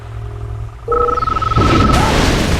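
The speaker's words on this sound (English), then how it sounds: "Warning. Lightning storm created." Lightning storm explosions in the video game Red Alert 2: deep booming rumbles that build and grow louder over a couple of seconds, with a tonal game sound near the start.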